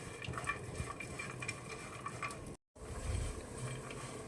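Cashews and almonds roasting on low heat in a pan while being stirred, giving a steady soft scraping and gentle sizzle close by, with a brief gap of silence partway through.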